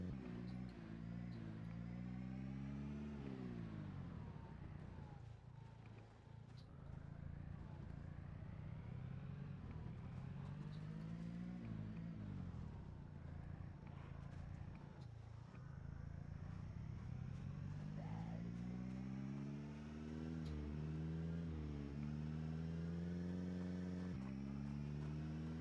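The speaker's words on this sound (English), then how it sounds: "I hear my car." A car engine in a zombie video game drones continuously as the car drives, its pitch rising and falling in long sweeps as it accelerates and eases off. The sound is heard alone at a steady level.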